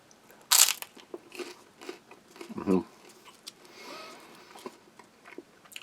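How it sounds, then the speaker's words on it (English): Crisp bread from a two-and-a-half-year-expired Czech army combat ration snaps with one sharp, close crunch, followed by a louder bite and softer chewing crunches as someone talks in between. "Let's have a look at these crisp breads. Nice snap."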